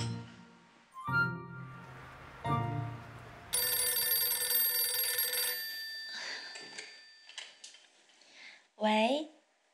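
A telephone rings with a bright, sustained electronic tone for about two seconds, loud and alone after some clattering household noises; a voice then speaks briefly and a short sharp sound follows.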